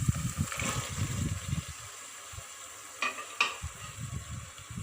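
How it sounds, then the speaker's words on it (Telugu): Broad beans and fenugreek leaves being stirred in a frying pan, with low rhythmic scraping and shuffling strokes, a soft sizzle underneath, a short pause, then two sharp metallic clinks before stirring resumes. "చిక్కుడుగా వేసుకొని దీన్నంతా ఒకసారి ఇలా మిక్స్ చేసుకుందాం."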